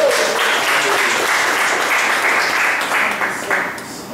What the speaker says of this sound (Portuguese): Vamos dar mais uma salva de palmas.